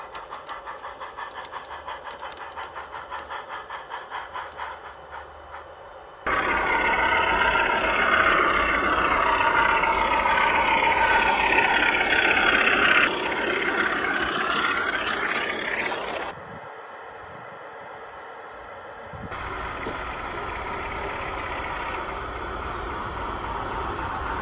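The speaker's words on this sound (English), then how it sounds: "Toby pulls Henrietta out of the bay platform and then waits in the loop" A model tram engine pulling a coach out of a bay platform, then idling in a loop: a steady mechanical rumble, a louder scraping, rolling stretch in the middle, then a quieter running hum.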